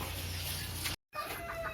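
Hens cluck softly amid steady background noise, broken by a brief moment of silence before the clucking resumes.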